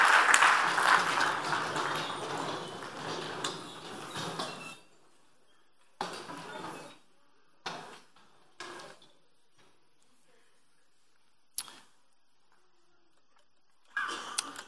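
A church congregation applauds together in a burst of dense clapping for several seconds, which stops abruptly. A few short, scattered bursts of sound follow, separated by near silence.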